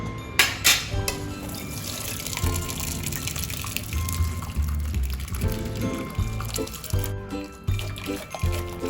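Water pours and splashes steadily as cooked lentil water is drained through a puran strainer, a continuous rushing drain with a few clinks, while someone talks over it.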